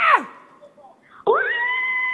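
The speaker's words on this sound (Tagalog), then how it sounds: "Oh, sumigaw ka na." On a live TV game show, a caller shouts over a telephone line: a brief, high, strained yell, a quiet gap, then a loud sustained shout with a thin, tinny phone quality.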